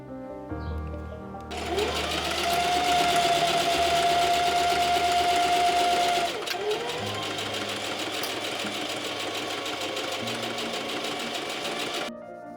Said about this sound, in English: Then with right sides together, sew the side seams of the sleeve.